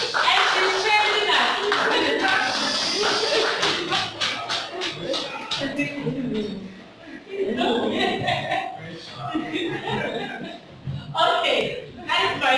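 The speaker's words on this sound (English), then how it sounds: "Please, with a round of applause." An audience at a monthly entrepreneurs' meetup in Kumasi applauds a guest with sustained, dense clapping that fills the room, mixed with voices and later fading under talk.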